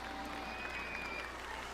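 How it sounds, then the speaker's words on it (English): Guests in RollerCoaster Tycoon clap after a level is beaten, a steady, faint wash of crowd applause that holds evenly throughout the brief moment. "As you look around, all the guests are clapping."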